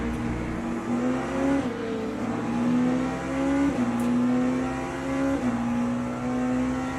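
Engine of a race car in a racing video game, a steady whine rising through repeated gear shifts as another Porsche runs alongside, close and continuous.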